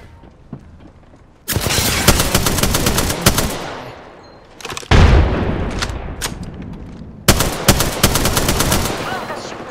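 Rapid automatic gunfire from the Apex Legends video game, long loud sustained bursts with a heavy impact partway through and another burst near the end, no speech over it.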